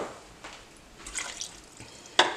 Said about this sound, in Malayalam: അതാണ് ഞാൻ 1/4 കപ്പ് വെള്ളം ഒഴിച്ചു കൊടുക്കാൻ പോവാണ്.